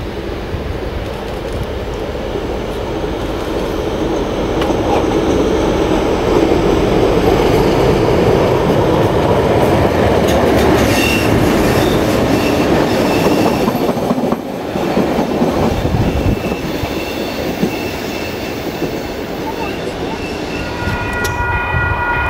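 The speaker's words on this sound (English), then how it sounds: "Departure from Timaru as the train is about to pass Caroline Bay." Di class diesel locomotive hauling a train departing Timaru past Caroline Bay, a loud steady engine drone with rumbling wheels, clickety-clack on the rails and occasional squeals, continuous and close throughout.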